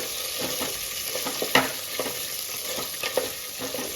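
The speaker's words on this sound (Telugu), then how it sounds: "ఇప్పుడు కొద్దిగా వేయించుకోవాలి, కొద్దిగానే వేయించుకోవాలి, ఎక్కువ వేయించవద్దు" Green chillies crackling as they fry in a pan, a steady close sizzle broken by a few sharp clicks and scrapes from stirring.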